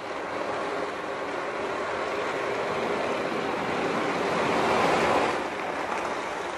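A cardboard pizza-box ocean drum is played with circular movements, a continuous swishing wash like surf, swelling louder near the end before easing back.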